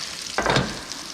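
Chicken fries in a light rock pan with a short, loud burst of sizzle and stirring, as food is tossed or turned over a steady background crackle. No one speaks.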